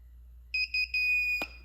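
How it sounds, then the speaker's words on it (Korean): A temperature controller fitted to a freezer converted into a kimchi fridge sounds a high, shrill electronic alarm: three short beeps, then a longer steady tone, close and loud, ending with a click. "2도가 넘으면 너무 따뜻해지면 알람이 울리게 설정을 해놓을 수 있어요."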